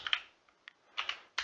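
Keys clatter on a computer keyboard as Haskell code is typed, in short uneven bursts of clicks separated by brief pauses, close and fairly soft.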